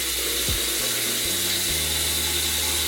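Tap water runs steadily into a bathroom sink during a face-washing skincare routine, a constant broadband rush with a low hum underneath, no talking over it.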